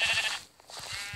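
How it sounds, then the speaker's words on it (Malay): A Minecraft sheep bleats repeatedly in the video game, a short nasal bleat followed by several quieter in-game sounds, heard alone without speech. "I want the sheep."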